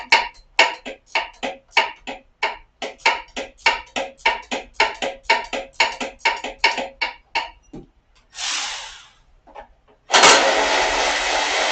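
A Ford Festiva engine cranks in a long run of rapid, even starter pulses, then after a brief pause and a sputter catches and roars into a loud steady run, with no talking.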